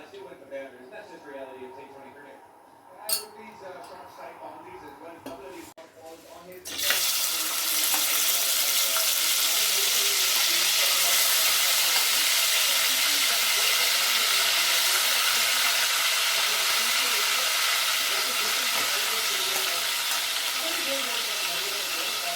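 Mutton frying in a generous amount of oil while being stirred, a dense steady sizzle that starts abruptly and then runs loud and continuous, with spoken voices in the quieter stretch before it.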